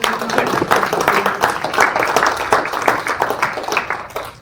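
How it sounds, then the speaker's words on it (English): Audience applause at an Ontario Liberal Party leadership candidates forum in Sarnia-Lambton, a steady patter of many hands clapping for several seconds, moderately loud and fairly close. "Can we give them a round of applause?"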